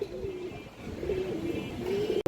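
A large Indian highflyer Kaldam pigeon with cream eyes coos nearby in a low rolling tone, one drawn-out throaty call swelling and fading over steady background noise, ending in a brief knock.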